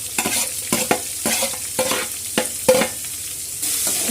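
Onions sauté in hot oil in a kadai with garlic and curry leaves, sizzling up close while a spoon scrapes and knocks against the pan in irregular strokes.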